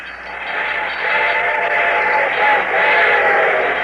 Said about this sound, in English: I could hear its bell ringing and the cry of its whistle